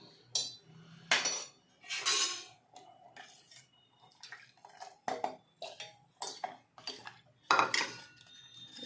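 A spoon clinks and scrapes against a metal vessel while thin soup is mixed and tipped in, giving irregular bursts of ringing knocks with short pauses between them and no talking.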